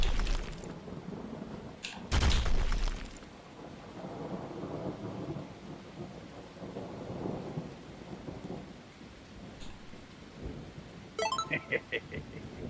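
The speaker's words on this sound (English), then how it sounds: "Look at this, freaking lightning and shit." Crackling lightning attack strikes with loud thunderous bursts in School Hero, a Greek-developed anime beat 'em up, followed by rumbling rain-like noise and a few sharp electric zaps near the end, with a voice talking faintly underneath.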